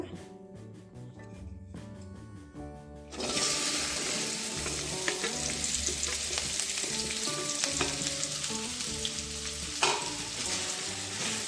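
Okra, or ladies finger, frying in a little oil on a pan over low flame: after a quiet start with a musical tune, a loud dense sizzle sets in and holds steady with occasional stirring scrapes.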